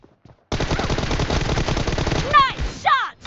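Loud, continuous automatic M416 gunfire in a PUBG Mobile 1 vs 1 room match, opening after a brief quiet start and rattling steadily for nearly three seconds, with chirpy game effects near the end.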